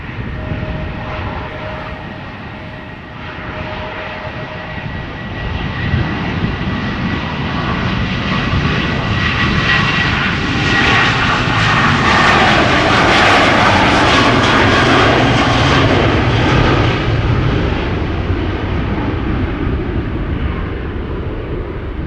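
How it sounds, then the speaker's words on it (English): A Boeing 737 jet taking off from Amsterdam Schiphol toward London Heathrow, a loud, close engine roar that swells to a peak midway with rising whine and rumble, then eases slightly while staying strong. "there is a 737 first taking off to London Heathrow"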